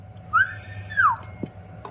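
Two rising-and-falling whistles sung into a microphone feeding a homemade M80 amplifier running about 40 watts, each clear and close, with a low steady hum and a brief click between them.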